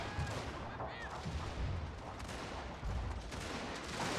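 Artillery firing in the strategy game Scramble for the Far East, a dense barrage of overlapping booms and crackling blasts rolling continuously at a low, distant level.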